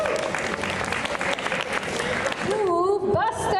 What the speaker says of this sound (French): Alors, on l'applaudit, s'il vous plaît